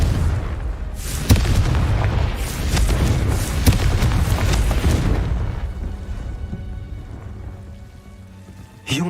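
A booming explosion from a Confringo spell in Hogwarts Legacy, with loud crackling blasts and sharp impacts over the first half that fade into a lingering rumble, and a last short hit right at the end.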